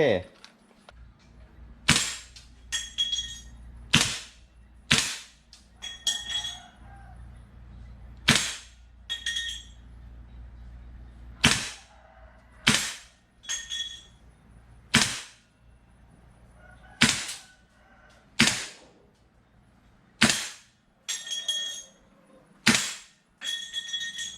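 A GHK Colt Mk18 Mod1 gas blowback airsoft rifle fires single sharp cracks at irregular intervals, about twenty loud, close shots with metallic pings from a steel target in between.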